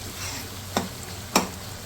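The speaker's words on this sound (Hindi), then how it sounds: "ठीक है, थोड़ा सा इसको और भून लेते हैं।" Onion masala frying in oil for black chickpea curry, a soft steady sizzle broken by two sharp spatula scrapes against the pot, close, with no speech.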